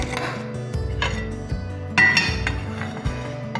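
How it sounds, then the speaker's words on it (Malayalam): A metal pan set down on a home stove to heat for a bread-and-egg snack: several hard clanks and clinks of cookware, one sharper metallic knock midway, against a low steady background hum. "ഇനി നമുക്ക് പാൻ ചൂടാക്കാൻ വയ്ക്കാം"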